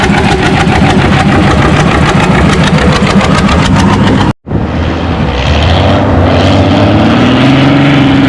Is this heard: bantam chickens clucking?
no